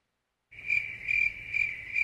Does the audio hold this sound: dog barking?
no